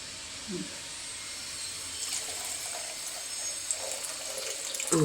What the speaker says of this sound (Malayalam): ഇനി കുറച്ച് വെള്ളം കൂടി എല്ലാ കൂട്ടത്തിൽ ഒഴിച്ചു കൊടുത്തിട്ട് നമുക്ക്